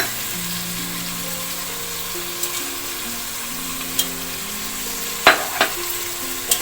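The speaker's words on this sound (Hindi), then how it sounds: "अब इसको गोश्त को मैं हल्का सा भून रही हूँ" Beef sizzles in a pan with ground chillies, salt and spices for nihari, a steady close frying hiss with a few sharp clinks and scrapes of stirring toward the end.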